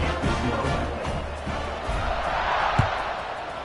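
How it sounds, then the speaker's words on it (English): Stadium crowd at a Missouri vs Iowa college football game buzzing steadily in the fourth quarter before a kickoff, a dense continuous roar with scattered shouts and a brief thump near the end. "this crowd is buzzing after that last score"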